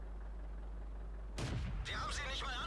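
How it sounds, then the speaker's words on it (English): A tank shell glancing off armor in World of Tanks, a sudden loud impact burst with a ringing metallic clang after a low engine drone. "Bounce that shot."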